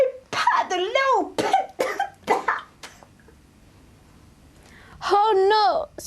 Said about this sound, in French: Et là, tu peux tousser.